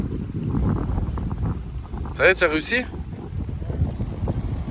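Strong storm wind gusts around a camper van at a campsite, a steady broadband rush with gusty swells and microphone buffeting, continuing under a voice that speaks briefly partway through.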